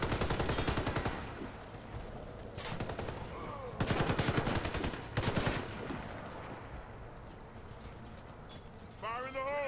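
Rapid bursts of automatic gunfire from the shooter Warface crackle in sharp volleys on a dark multiplayer map, separated by brief pauses, with a player talking over the shots.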